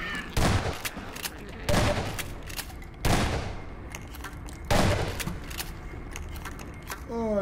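Half-Life 2 gunfire comes as four loud, separate bursts spaced a second or two apart, with quieter game noise and some talk in between.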